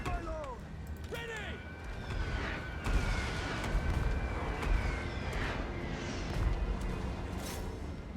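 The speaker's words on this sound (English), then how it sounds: "they're trying to dodge these mortars" Mortar and cannon fire booming across a Total War: Warhammer 2 battlefield, a steady rumble of repeated blasts and crashing impacts over layered battle noise, with faint whistling tones above.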